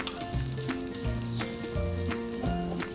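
Garlic frying in hot cooking oil, a steady close sizzle with regular stirring scrapes and soft knocks in a repeating rhythm, under background music, with no talking.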